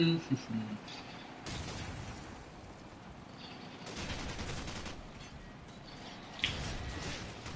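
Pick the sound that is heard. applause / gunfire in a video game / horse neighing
gunfire in a video game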